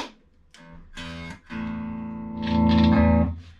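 Guitar played through the second channel of a vintage 1964 Gibson GA77 RVT Vanguard amp: a few short strummed chords, then a held chord that swells and rings out, loud and close with no talking.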